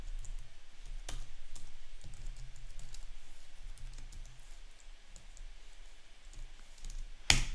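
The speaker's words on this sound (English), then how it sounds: "So if I were to type that into the immediate window" Typing on a computer keyboard while working in Excel VBA, a steady run of soft, close key clicks with a couple of sharper taps and a louder click at the very end, no voice over it.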